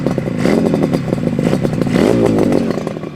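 A 1975 Yamaha RD350 two-stroke six-speed cafe racer with DG pipes and Mikuni carbs revs up close, a loud raspy crackling buzz that rises and falls in pitch with the throttle.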